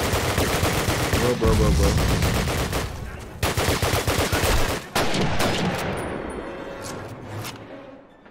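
Rapid bursts of automatic gunfire in a Call of Duty match, loud and close, with dense overlapping shots and brief pauses before further volleys; a player speaks briefly over the shooting.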